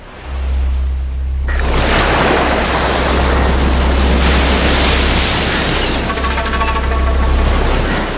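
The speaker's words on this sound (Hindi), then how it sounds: "समंदर बड़े गुस्से में है।" Rough sea waves surge and roar in a loud, continuous wash of broadband noise with a deep low rumble, the surf building and churning without pause throughout.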